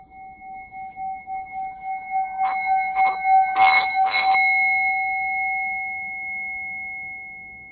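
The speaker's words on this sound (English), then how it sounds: "This is one of the singing bowls." Singing bowl rubbed into a sustained ringing tone with pulsing swells and a few brief knocks, then left to hum and slowly fade, close and clear.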